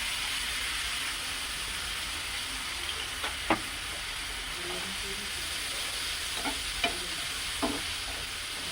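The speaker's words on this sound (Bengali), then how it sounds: "দেখুন আমার ক্যাপসিকাম পেঁয়াজ ভাজা হয়ে গেছে। এবার আমি এর মধ্যে দিচ্ছি সয়া সস।" Soy sauce goes into capsicum and onion frying in a pan, a soft continuous sizzle under occasional scraping stirs and light clinks of a utensil, moderately close and fairly quiet.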